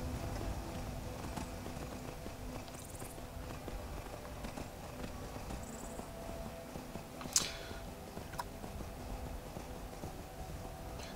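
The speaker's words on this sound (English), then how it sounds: "This horse I'm riding" Hooves of a horse ridden in the video game Skyrim clip-clop steadily, moderately loud against a dense, continuous background of game ambience, with one brief sharp accent midway.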